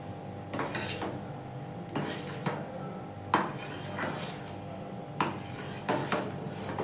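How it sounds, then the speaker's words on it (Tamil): Beetroot jam cooks in a pot while a spoon stirs it, giving a few scraping, clinking strokes against the pot at uneven intervals over a faint steady background. "நல்லா நம்ம கிண்டிக்கிட்டே இருக்கணுங்க."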